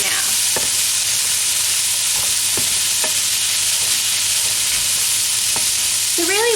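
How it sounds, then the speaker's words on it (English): Frozen mixed vegetables stirred around a hot pan to thaw, giving a steady hiss with a few sharp scraping knocks spaced through it, close and alone. "So I'm just going to give this a little mix around, defrost those veggies."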